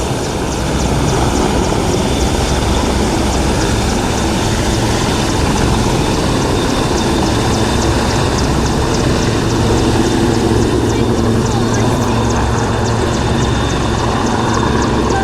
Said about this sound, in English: The Merlin coming to a hover and support the guys on the ground with troops.